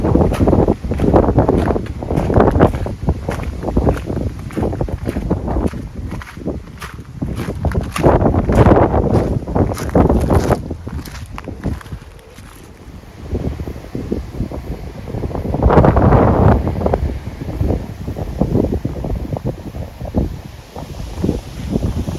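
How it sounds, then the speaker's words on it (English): Strong gusts of wind roar across an English country garden, surging and fading in long loud waves, with rustling and buffeting on the microphone and no voices. "I don't think there'll be much gardening outside until this wind's calmed down a bit"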